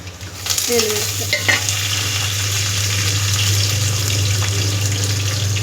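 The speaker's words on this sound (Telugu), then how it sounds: "ఇప్పుడు తాలింపు పెట్టేద్దాం" Tempering spices with garlic and curry leaves sizzle loudly in hot oil, a steady crackling hiss with a low hum underneath and a few stirring clinks near the start.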